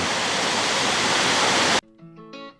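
Loud, dense roar of the waterfall in Jajce, Bosnia, steady and close for most of the moment, then cutting off abruptly to a quieter scene with faint talking.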